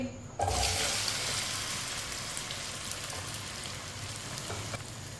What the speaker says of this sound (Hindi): अरबी को 3-4 मिनट के लिए फ्राई कर लेंगे।